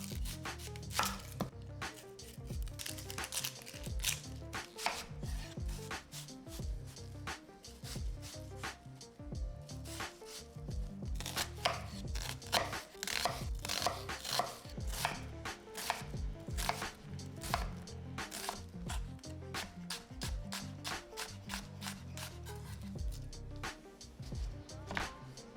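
A red onion chopped with a knife on a board: dense, rapid knife strikes in a steady, busy rhythm, close and fairly loud throughout, with no talking.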